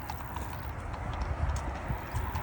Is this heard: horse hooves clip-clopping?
yes